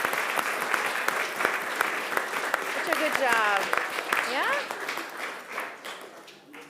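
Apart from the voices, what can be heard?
applause for the Who children actors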